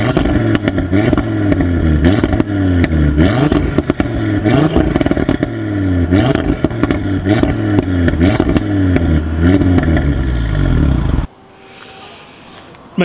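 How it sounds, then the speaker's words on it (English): Audi RS3 with a sports exhaust revving hard in a car park, a loud, rapid run of blips and rising, falling engine sweeps with crackles, cutting off abruptly near the end into quiet background. "I will include a clip of the car now and me being obnoxious and revving it in a car park."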